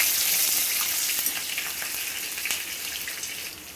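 Nigella seeds, garlic and green chilies hit hot oil for a greens curry, giving a bright, hissing sizzle that starts strong and eases slightly over a few seconds, close by and without talk.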